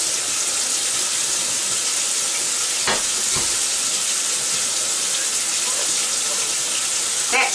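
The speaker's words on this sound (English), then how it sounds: "We're just going to let hot water run." Hot water runs steadily from a kitchen tap into a pan while a potato casserole is being cooked, a continuous close hiss and splash with a couple of brief knocks partway through.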